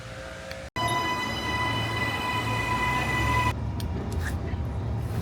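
Railway station platform with a train standing or passing, a steady broad rumble and hum with sustained tonal whine, briefly cutting out near the start, amid busy ambient noise.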